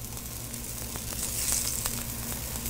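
Floured scallops sear in canola and olive oil in a hot pan, giving a steady close sizzle with light crackling pops and no talk.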